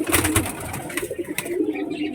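A satin pigeon kept at home makes soft, low, throaty cooing close by, with a few brief rustles over the short stretch.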